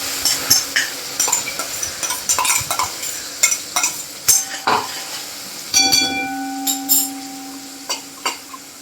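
A chilli and garlic paste sautés in a pan while a utensil stirs it, with repeated scraping and clinking strokes over a soft sizzle and a brief high ringing tone partway through.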